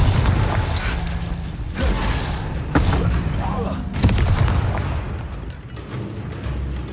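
Confringo blasting spell cast in the Hogwarts Legacy video game, bursts of explosive booms and crackling impacts over a dense, loud battle din with a voice shouting during the fight.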